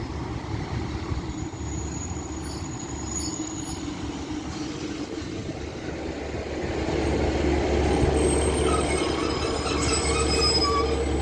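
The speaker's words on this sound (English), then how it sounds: "And coming in up there is a 150 running from Rochdale to Blackburn." British Rail Class 150 diesel train pulling into Castleton station, a steady rumble with wheel squeal and rail noise that swells louder in the second half as it draws near, with no talking.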